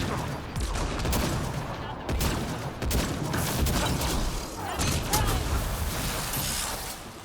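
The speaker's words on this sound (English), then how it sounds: "It's a turret." A turret in Mass Effect: Andromeda fires in sustained, dense volleys, with loud continuous gunfire and muffled impacts filling the whole stretch and small dips between bursts.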